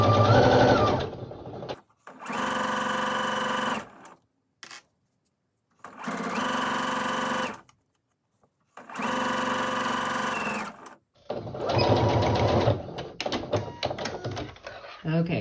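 A sewing machine stitches binding onto a quilt in several steady, humming runs of a few seconds each, separated by short pauses, with a final run broken by clicks and irregular stops.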